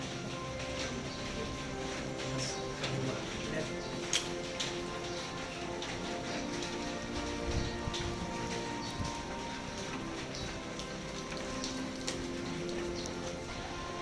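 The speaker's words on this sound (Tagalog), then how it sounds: "Kaso maulan talaga. Malakas." Heavy rain falls on a rainy morning, a dense, steady hiss of drops with a low rumble underneath and scattered sharper ticks throughout.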